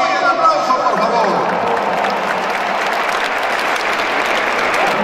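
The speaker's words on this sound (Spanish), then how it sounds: "Un aplauso, por favor." A Spanish-speaking audience at a public event applauds loudly and steadily for several seconds, a dense continuous clatter of many hands from a crowd, with no talking over it.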